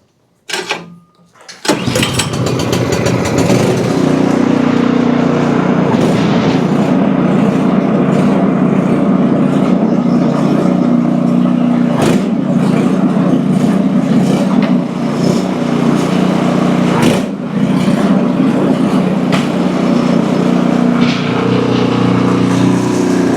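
A snowblower engine starts after a brief crank and then runs loud and steady at full throttle, close up, with its droning note holding for the rest of the clip.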